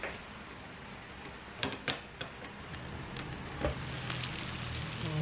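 Steady bubbling and sizzling from a covered pot of sardines and noodles, a few sharp clinks partway through, with no talking.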